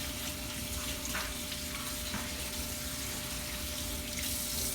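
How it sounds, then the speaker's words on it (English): A cup is rinsed under a running kitchen tap, giving a steady, close rush of water that splashes and gurgles continuously with no speech. "Okay, then you rinse it."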